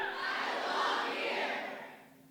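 A room full of women at an International Women's Day event yells together in one loud, swelling shout that holds for about two seconds and then fades.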